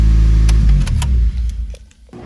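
A Honda Civic Si with a K20z3 engine runs loud after a knock sensor replacement, a deep, steady rumble close by that fades partway through, with a few clicks and no voices.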